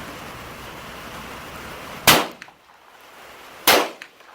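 Two sharp, loud unsuppressed gunshots from a Ruger Mark IV 22/45 .22 pistol, spaced about a second and a half apart, each a crisp crack with a short decay over quiet outdoor background.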